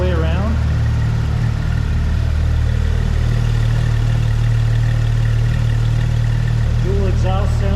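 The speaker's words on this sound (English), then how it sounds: "Dual exhaust sounds good." A 2015 Porsche 911 GT3 idles through its dual exhaust with a loud, steady, low rumble that carries throughout, broken only by brief higher chirps at the start and end.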